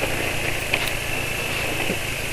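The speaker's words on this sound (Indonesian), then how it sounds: "Ini suara mesin sudah keluar semua ya" An engine running on Deltalube Adventure oil in a first-impressions oil review, giving a steady, slightly rough drone with a faint constant whine, heard close and alone without any talking.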